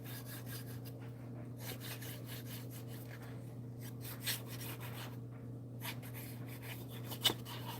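Designer series paper being pressed and rubbed down onto a glued card base, soft scratchy rubbing and smoothing strokes in short bursts over a steady low hum, close and quiet, with a small tap near the end.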